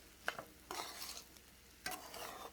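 A spoon scrapes and tosses vegetable fried rice with soy sauce, green chilli paste and ajinomoto around a pan. It comes as two or three short, soft bursts of scraping and shuffling with faint sizzling between them.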